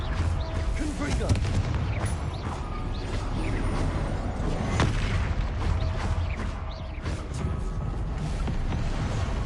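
A fire-spell explosion from Hogwarts Legacy booms amid a dense, continuous wash of spell blasts and combat noise, loud and sustained throughout, with a voice shouting over it.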